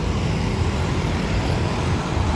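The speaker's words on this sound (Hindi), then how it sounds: "माशाल्लाह से कैसे ट्रैफिक आ रही है" Steady, dense road traffic at Kala Pul in Karachi rumbles without a break, a continuous low roar of passing cars and buses close to the listener.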